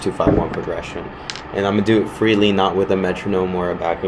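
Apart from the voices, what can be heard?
No distinct noise like a dog, phone or traffic.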